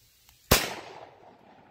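A gun fires at dry ice outdoors, one sharp crack that fades into a short ringing tail, alone and fairly distant.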